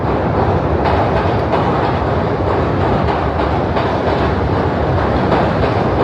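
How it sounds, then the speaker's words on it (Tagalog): A Chicago L Brown Line elevated train rolls past in a loud, continuous rumble of wheels and rail clatter that holds steady throughout, with no talking. "I believe this one is the Brown Line train."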